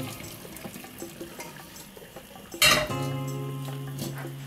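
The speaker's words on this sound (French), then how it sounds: "Je vais égoutter mon vermicelle." Boiled vermicelli is drained from a pot: quiet kitchen clatter, then a loud metallic clank followed by a steady rush of pouring water that continues to the end.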